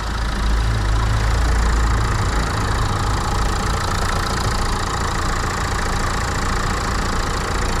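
A Dacia Stepway engine idles close by at a steady, dense drone, with a heavier low rumble in the first couple of seconds before settling; no one talks over it.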